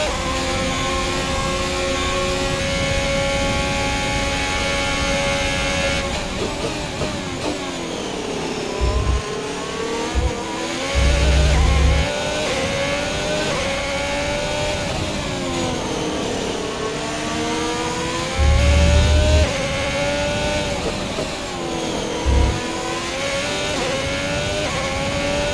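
Formula 1 car engine in the racing game F1 2021, a high-pitched whine rising and falling through gear changes and revs, with brief low thumps in between, loud and continuous with no talk.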